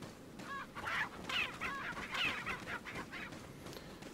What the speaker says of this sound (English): Screw you, chicken.